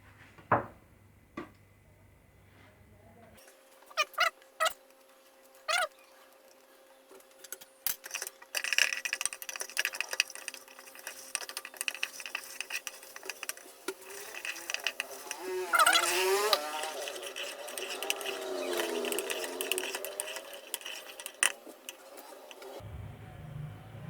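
A mixer grinder runs on masala spices, starting after a few scattered clicks and settling into a steady, loud whirring grind that carries through most of the clip.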